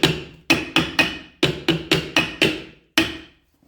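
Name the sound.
hide hammer tapping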